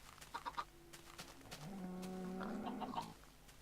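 A chicken in the video game Minecraft clucks, with a few short clucks at first and then a sustained, fairly loud squawking run in the middle of the clip, heard alone without talk.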